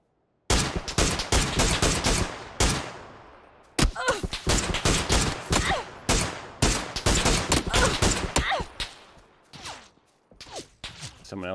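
Gunfire in PUBG on Xbox One rings out in loud, close volleys of rapid shots, bursts repeating with brief gaps between them and tapering echoes after some strings.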